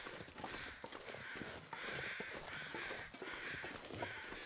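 Crows caw repeatedly in the snowy wilderness of The Long Dark, harsh calls arriving in a fairly regular series at moderate distance, with soft crunching steps faintly underneath.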